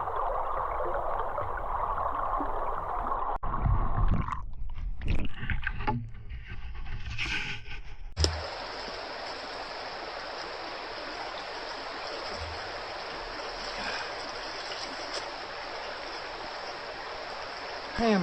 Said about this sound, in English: The sound of the water going over the top from the riffle.